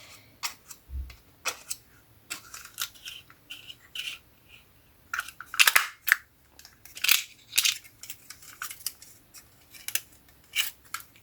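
Scissors snip through paper close by, a run of quick, irregular cuts with short pauses and a few louder crisp snips.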